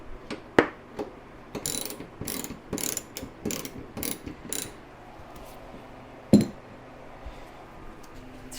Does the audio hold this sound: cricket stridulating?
no